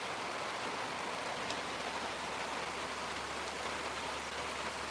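Steady rain falling, a dense, even hiss of drops that stays constant and fairly loud throughout with no voices.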